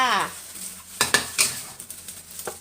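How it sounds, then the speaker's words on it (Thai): Stir-fried egg being scooped from a pan with a metal utensil while cooking sponge gourd, a few sharp scrapes and clinks against the pan over a faint sizzle, close and intermittent. "ตักไข่พักไว้เลยจ้า"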